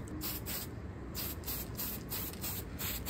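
Spray paint hisses from an aerosol can onto RC wheels in a matte black finish, a close series of short bursts in a quick rhythm, each a few tenths of a second, with no talk.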